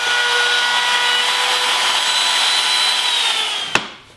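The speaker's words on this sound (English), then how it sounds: "I'm going to use the same router and the same router bit" A router with a round-over bit easing the edge of wooden chair rail molding, a steady high whine held for nearly four seconds before a sharp tick and a quick spin-down.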